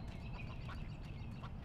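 Ducks quack repeatedly in a short burst of nasal calls, fairly faint against a soft background.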